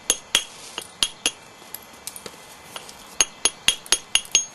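Sharp, ringing clicks of a small billet striking novaculite during flintknapping of a laurel leaf point, in irregular single blows that come faster toward the end, close and fairly loud with no talk.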